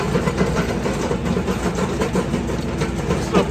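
A tractor engine runs steadily at a constant drone while straining to pull out a big tree stump outdoors, with no talk over the continuous mechanical rumble.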